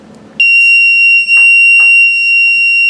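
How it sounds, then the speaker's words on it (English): A piercing electronic buzzer sounds continuously at a steady high pitch, loud and close, with a brief dip partway through. "the buzzer will keep on buzzing"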